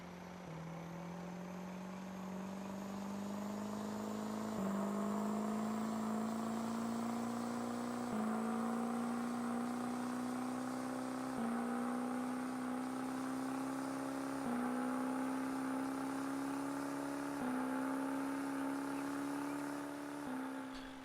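Truck engine in Farming Simulator 19 climbing through gears, each pitch rise ending in a short drop at a shift, about seven shifts at a steady rhythm, close and continuous with no talk.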